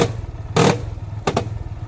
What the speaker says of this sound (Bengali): এই আওয়াজটা হইল গিয়া চেন স্পকেটের আওয়াজ